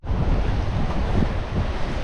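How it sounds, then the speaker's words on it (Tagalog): Ocean waves surging steadily at a beach spot, a loud continuous roar of surf and wind with no pauses or voices. "Grabe yung alon, no?"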